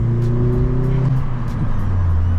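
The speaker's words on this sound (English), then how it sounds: "Rev it up." A car engine revs during a manual downshift, with a deep steady engine tone that swells and shifts pitch as the revs rise, loud and close with no talking over it.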